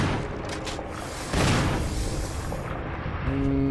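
In Resident Evil, a rapid series of loud gunshots and booming blasts, dense and continuous, with a heavy impact near the middle.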